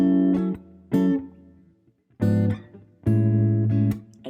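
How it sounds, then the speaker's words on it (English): Jazz chord progression on guitar, four separate strummed chords with short gaps between them, ringing close and clear and ending on a diminished seventh chord. "did you hear that little diminished 7th right at the end I was talking about?"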